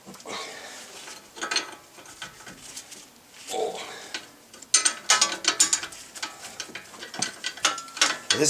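A 21 millimeter combo wrench works a bolt loose on the front wheel bearing of a 1999-2001 Volvo S60, giving irregular close ratcheting clicks and metallic clanks in uneven bursts that grow busier toward the end.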